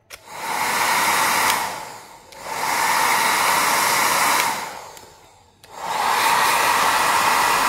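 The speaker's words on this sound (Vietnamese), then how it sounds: "Máy sấy tóc của Toshiba" A Toshiba hair dryer blows with a loud, steady whooshing roar in three long bursts, briefly switched off between them, with no talking.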